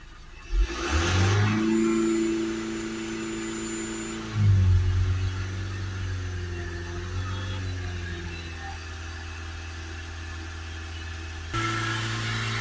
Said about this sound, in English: we'll give it a few revs up and down, see where we're moving.